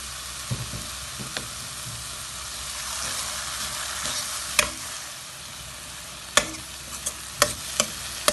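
Nasi goreng being stir-fried in a pan with soy sauce added: a steady sizzle runs throughout, broken by scattered sharp scrapes and clicks of a utensil against the pan.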